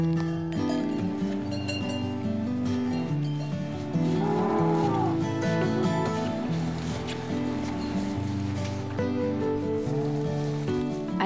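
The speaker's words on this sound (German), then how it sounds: "Als dann die Kühe endlich im Stall sind" Cattle moo repeatedly as the cows are brought into the barn, several loud, close calls layered over a steady, dense background of farm activity and music-like tones.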